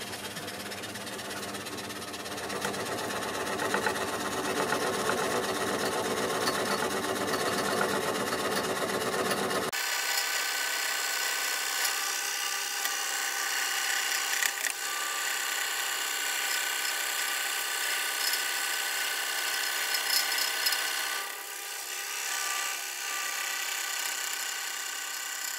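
A scroll saw with a fine blade cuts through thick PMMA acrylic plastic in a steady rapid buzzing reciprocation. The tone shifts abruptly partway through, the low hum drops out and a brighter rasp continues, with no speech.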